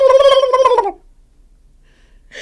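A person imitates a turkey gobble with the voice, a loud rapid warbling burst lasting about a second, then near silence.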